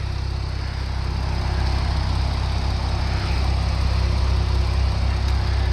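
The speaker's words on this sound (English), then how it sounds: "The car sounds good, it's currently on at the moment." A Porsche 911 Carrera engine idles steadily nearby, a low constant rumble with no revving.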